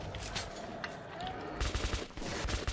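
Gunfire in the video game Metro 2033 Redux, a rapid run of shots that turns louder and denser in the second half, continuous with no talk heard.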